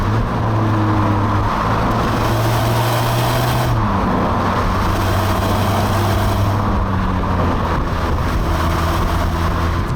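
Steady, loud drone of a 2017 VW Polo Blue GT hatchback being driven hard on twisty roads, engine note rising and dipping with gear changes, with continuous road and wind noise and no talking.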